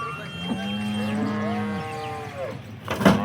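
Cattle moo in long, drawn-out calls while being herded one at a time at a cow sale in a village in Rajkot district, with several overlapping lows close by, followed by a brief clatter at the end.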